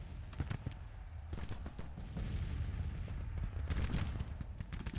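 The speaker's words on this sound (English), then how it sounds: "My infantry's now firing." American Civil War strategy game gunfire from Confederate infantry crackles in repeated volleys, sharp shots clustered and overlapping, building into a denser rattle midway before thinning out.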